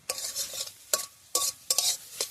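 Eggs cooked with spring onions in a pan as egg bhurji, a spatula scraping and stirring in five quick, separate strokes over a soft sizzle.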